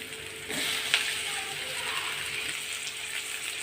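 Tomatoes sauté in a pan for mangai kulambu, a close sizzling hiss that swells after a quiet start, with a sharp utensil clink and some scraping as they are stirred, with no talk.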